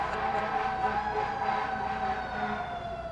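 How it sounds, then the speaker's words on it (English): Emergency sirens wail on a city street, a loud sustained tone with traffic rumble underneath as the vehicles pass by. "let the sirens go by."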